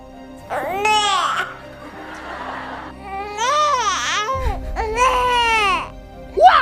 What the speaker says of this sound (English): The first sound is ne, which means hungry.